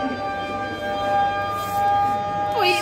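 A college siren wails steadily as a sustained tone, marking the start or end of the day at Malla Reddy College of Engineering and Technology, loud and continuous with a rising sweep near the end.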